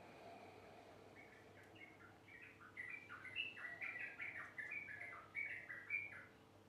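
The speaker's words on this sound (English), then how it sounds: "I've got some birds tweeting away at the moment." Small birds chirp and tweet in quick, overlapping bursts against a soft, steady background hum of insects and distant jungle noise in Ubud, Bali.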